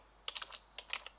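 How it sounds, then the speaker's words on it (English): An email address being typed on a computer keyboard, two short bursts of soft, quick key taps close by, faint against a quiet background. "I'll type an email address,"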